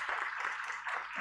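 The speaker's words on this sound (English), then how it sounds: "I would like to ask you all to applaud first the panel." An audience applauds the panel at the opening session of a global policy dialogue, a dense and steady wash of clapping from many hands across a short stretch, moderately loud with no talking.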